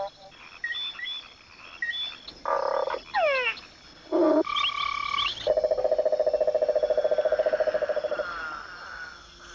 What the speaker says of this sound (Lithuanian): Kiekvienos rūšės kurkimas vis kitoks.